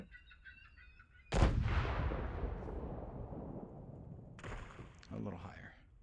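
A ship's cannon booms once in the sailing game Sail, a loud sudden blast with a long rumbling decay, followed shortly by a second burst of noise; faint tonal game sounds precede it.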